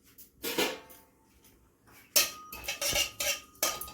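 A utensil scrapes and clatters against a hot pan while whole cumin and five-spice seeds are stirred for an Indian olive chutney, in short irregular bursts of metallic scraping with quiet gaps.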